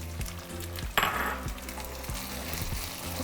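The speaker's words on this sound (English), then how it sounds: "Okay, now we're just going to cook our chorizo for about 5 minutes." Chorizo and pinto beans sizzle steadily in a frying pan, a continuous close fry with a brief louder burst of spatter and a few soft clinks of a utensil against the pan.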